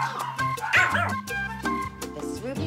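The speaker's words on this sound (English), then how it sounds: "Celebrated dog breeder Margaret McConnell shares her home with 40 Pomeranians and one husband" Small Pomeranian dogs bark and yip in rapid, overlapping bursts, several animals close by and loud, with some high whimpering mixed in, in a home housing many Pomeranians.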